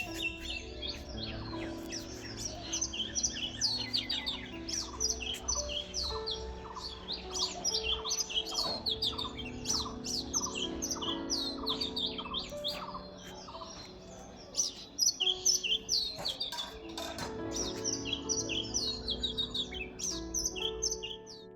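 Pet birds chirp and twitter busily on a morning, with dense overlapping high calls running continuously and no speech.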